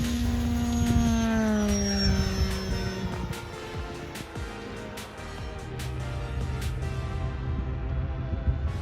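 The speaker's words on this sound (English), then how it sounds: "The plane is now switched into autonomous flight mode, flying its course at least 200 feet away from the safety pilot." An autonomous fixed-wing drone plane flies its course at least 200 feet away, giving a steady engine and propeller drone with shifting pitch that stays fairly even throughout.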